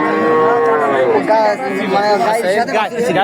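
A cow of Australian breed moos loudly and close by in long, drawn-out calls at a livestock market, with people chattering faintly in the background.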